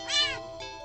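A single clear meow from a cute demon cat in a game, rising then trailing off, close and prominent with nothing else around it.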